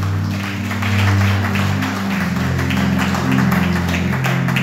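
A church congregation applauds after a scripture reading, a burst of steady clapping that rises and holds, with sustained musical tones under it.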